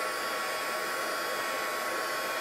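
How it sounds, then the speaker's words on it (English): Steady, loud rush of blowing hot air from a small electric crafting heat tool drying wet paint, a continuous broadband whoosh with no pauses or voices. "heating tool. It's something I use a lot in my card making and other crafting"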